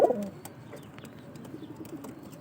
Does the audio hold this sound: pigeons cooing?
yes